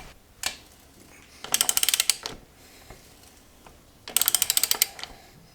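Ratchet wrench loosening the rear wheel axle of a 2019 Honda CB500X motorcycle, two quick runs of crisp clicking pawl strokes, close and loud, with a faint tap between them.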